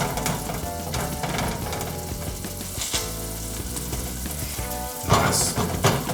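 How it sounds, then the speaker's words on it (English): Beef broth for nasi rawon cooks in a pot with a continuous close hissing sizzle and bubbling, with occasional knocks and a louder burst near the end. "So we've got some nice beef broth going on in there."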